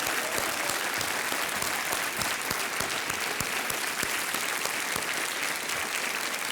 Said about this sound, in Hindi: हमारे आज के कंटेस्टेंट्स के लिए मैं चाहता हूं कि आप सब लोग जोरदार तालियां बजाएं